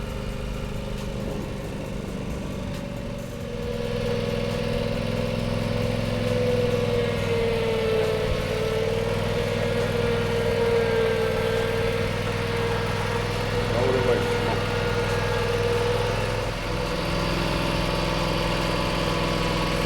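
A small lawn-equipment engine runs steadily and close, rising in pitch slightly as it is given gas, then holding a strong droning idle with slight wavering for the rest.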